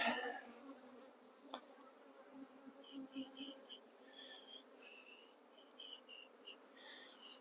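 A box of relocated honeybees gives off a continuous faint hum, dotted with short higher buzzing bursts from bees flying near, after a brief louder rustle at the start.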